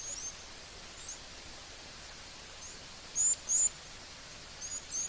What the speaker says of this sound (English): can you hear all the other little birds that are starting to chirp?